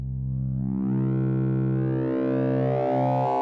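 A Massive X synth sine tone grows steadily brighter as its phase modulation rises, sustained and alone for a few seconds, the pure pitch gaining a widening spread of harmonics and a gliding, buzzy edge.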